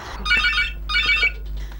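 A telephone rings at an animal shelter near Shepton Mallet, giving two close electronic trilling bursts, then the start of a third, over a low steady hum.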